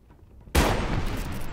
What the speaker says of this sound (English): Now we've placed some mines. Let's see if we can't detonate them.